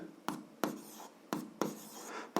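An algebra equation is written out by hand in a few short, distinct scratching strokes separated by brief pauses. The strokes are quiet and close, with no voices.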